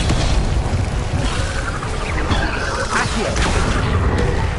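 Bombarda spell explosions in Hogwarts Legacy: a dense rumbling wash of booms and crashes, loud and continuous, with a few brighter bursts standing out.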